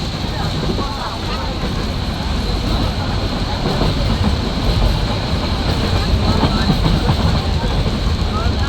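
A local commuter train runs along a railway in Dhaka, heard from on board as a steady loud rumble of wheels and carriages with a constant high whine and rattling underneath.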